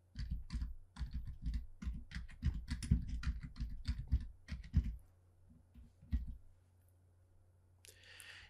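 Computer keyboard typing as a search term is entered, a quick run of close, crisp key clicks for about five seconds, then a few isolated taps and near silence.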